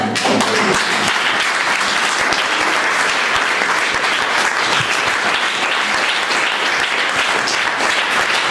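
A congregation at a worship service applauds steadily, dense and loud clapping filling the room from start to finish with no pause.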